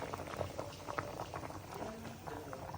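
Homemade tomato sauce bubbles at a low, steady boil, with soft pops and gurgles under a continuous simmering hiss, close but faint.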